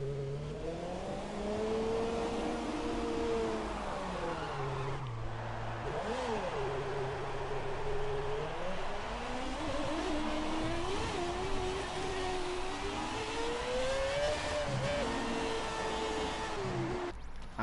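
An F1 car engine in the F1 2017 racing game revs and shifts through rising and falling pitches, a continuous mid-level whine sustained across the clip with a dip near the start.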